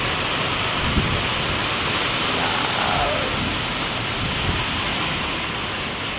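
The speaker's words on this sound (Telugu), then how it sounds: "వర్షం" Steady heavy rain pouring down, a continuous dense hiss with no voices.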